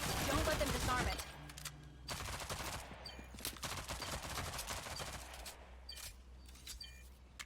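Gunfire in the Rogue Company shooter, a loud opening burst followed by scattered rapid shots and sharp cracks, some near and some farther off, with game sounds in between.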